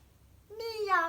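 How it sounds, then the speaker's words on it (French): A cat meows once, a single rising-then-falling call that starts after a brief quiet moment and swells loud and clear toward the end. "quand il miaule en allemand, c'est presque pareil"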